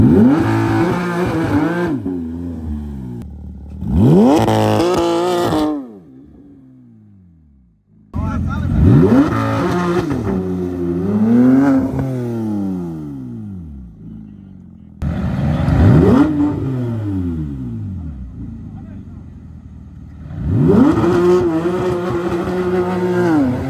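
A Porsche GT3 on a city street at night, engine roaring through repeated hard accelerations and revs with rising pitch, loud and near, with brief lulls between pulls.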